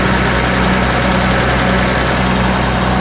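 A 525's engine idles steadily while warming up after a water pump refit, a loud, constant low rumble with a faint even hum and no other sounds.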